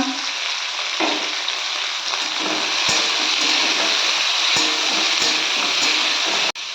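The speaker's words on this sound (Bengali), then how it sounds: "সমস্ত সবজিগুলো আমি ভালো করে তেলের মধ্যে নেড়ে নিয়েছি" Peas, broccoli and other vegetables fry in oil for a broccoli sabji, a loud, steady sizzle close by, punctuated by several sharp clicks as a spoon stirs them in the pan.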